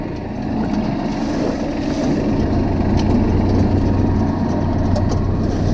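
A tractor pulls a mechanised garlic planter across a field at about 1.4 km/h, its engine a steady, loud, low drone that runs on unbroken throughout with no talk.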